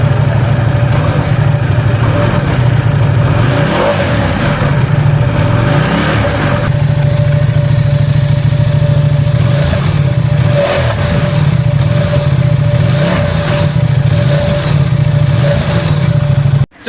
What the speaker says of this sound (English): And I'm going to crank up the Ducati Diavel 1260.